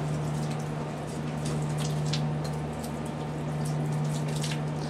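Water is poured out in a continuous splashing, trickling stream, steady and close, with a constant low hum underneath and no talking.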